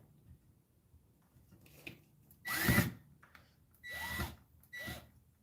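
Power drill driving screws into wood, three short whirring bursts of rising and falling pitch separated by quiet pauses with faint handling noise between.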